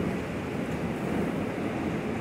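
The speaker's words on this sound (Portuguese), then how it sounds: "Tá ventando bastante também." Strong wind blowing outside a house, heard as a steady, dense roar with no gusting breaks and no voices.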